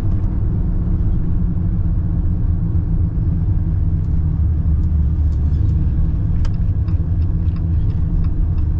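A Jeep Gladiator 392 V8 on large 40-inch tires drives along, its engine a steady, fairly tame low rumble mixed with road noise throughout, with faint ticks in the background.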